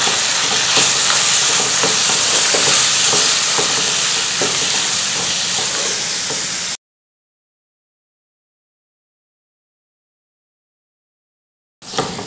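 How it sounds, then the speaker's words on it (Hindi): Shredded mutton fries in a hot pan with garlic and spices, giving a loud, dense sizzle with stirring scrapes for several seconds, then cutting to silence before a brief return of sizzling. "1 खाने का चम्मच लहसुन और ये जो मसाला आपको बताया था, इसके साथ जो है वो रेशों को भून लें।"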